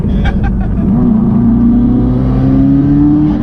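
A 440 bhp UK-type Subaru STI engine revving up close and loud, its pitch climbing steadily in one sustained pull, with voices faintly underneath.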